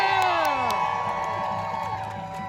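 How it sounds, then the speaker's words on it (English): Abortion rights rally crowd outside a courthouse cheering and whooping loudly, a dense sustained roar of many voices with a few shouts rising above it, no clear individual speech. "Give yourself a round of applause for being here."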